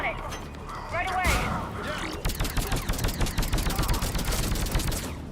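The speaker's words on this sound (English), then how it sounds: "Love this sniper rifle gun." Rapid repeated gunfire in Mass Effect 3 on Insanity difficulty, a loud steady rhythm of shots with voices and other game sounds mixed in underneath.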